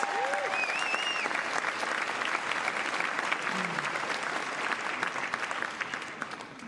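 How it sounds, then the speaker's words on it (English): Large crowd at a Philadelphia mayoral inauguration applauding steadily, dense and sustained, with faint cheers and whistles threaded through. "Give her a huge round of applause."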